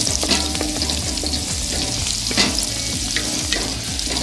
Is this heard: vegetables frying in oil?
yes